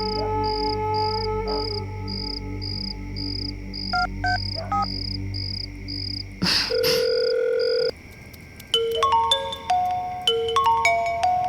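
An electronic ringback tone sounds while a phone call is being placed: a thin repeating beep pattern, then a brief click and shift into a different series of short tones, all fairly close and without speech.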